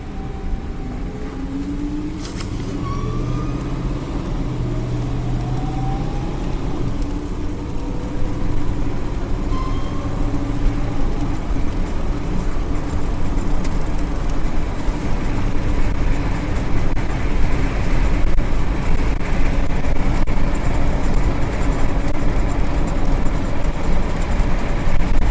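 A 1956 Cadillac Sedan Deville idles steadily with a thin whining tone from its transmission over a low, continuous engine rumble, gradually growing slightly louder.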